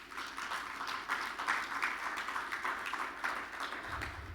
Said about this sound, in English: I actually think that deserves a round of applause.